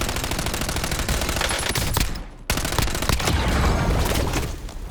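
Dense automatic gunfire in Call of Duty Warzone rattles loudly and almost continuously, breaking off for a split second before the bursts resume at full volume.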